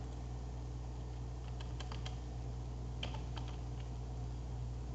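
Typing a web address on a computer keyboard, a few quiet, scattered key clicks over a steady low hum, faint and close.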